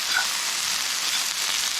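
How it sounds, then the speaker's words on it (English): Half a small onion and garlic sizzle steadily in a hot pan, a continuous close frying hiss with faint crackles and no voices. "saute the onion until you get a little bit of translucency going on"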